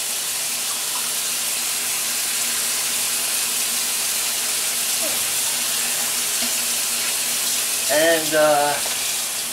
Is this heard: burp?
no